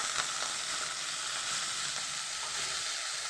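Bathua greens tossed into a hot pan crackle and sizzle in a loud, even fry that holds steady throughout, close up and with no talking.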